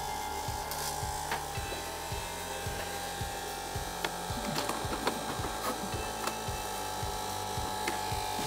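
A blunt electric hair clipper buzzes steadily close by as it runs over hair without cutting, a constant motor drone with a high whine and small rhythmic clicks, no one speaking.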